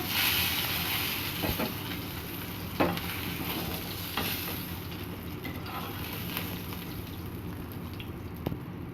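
Fish pieces fry in oil for a Bengali fish curry, making a continuous, fairly quiet sizzle punctuated by a few sharp pops and scrapes.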